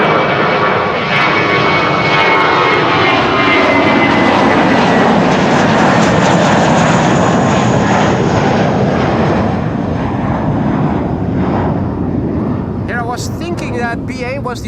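An Air Arabia Maroc airliner passes at Amsterdam Schiphol Airport, its jet engines a loud, sustained roar that swells and slowly fades, with a person speaking over the noise.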